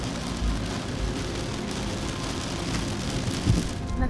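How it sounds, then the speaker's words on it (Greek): Heavy rain pours steadily during a tropical storm, with low rumbles of thunder beneath the dense hiss and a brief stronger thump near the end. "Να αρχίζει να δυναμώνει η βροχή,"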